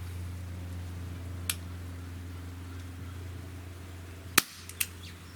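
A Walther CP99 CO2 air pistol fires a few sharp, faint pops, one early and a louder one near the end followed by a small click, over a steady low hum.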